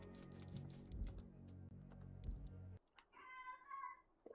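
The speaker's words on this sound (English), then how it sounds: "cat? Turning, what are you whining about?" A cat whines with a short drawn-out meow near the end, close and fairly clear, following a stretch of low humming background noise and faint clicking.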